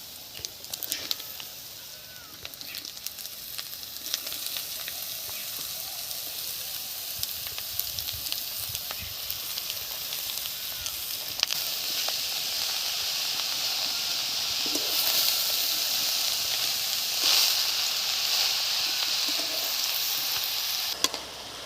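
Chopped bottle gourd added to a hot pan sizzles with a steady, fairly soft hiss that swells gradually louder, with a few brief stirring clatters, no talking.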